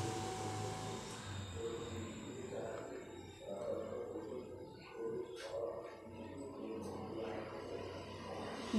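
A mixer grinder jar whirs with a rough, grinding motor noise as it blends sugar and egg. The sound rises and falls over several seconds and stays fairly quiet.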